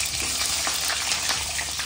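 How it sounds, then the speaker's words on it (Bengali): Potatoes fry in hot oil with bay leaf, cumin, garlic and onion, giving a steady, close crackling sizzle with faint stirring throughout and no talking. "তেজপাতা দিলাম, সাদা জিরা একটু দিলাম, তারপরে রসুন পেঁয়াজ এগুলো ফোড়ন দিলাম, আলুটা ভাজতে দিলাম এর ভিতরে"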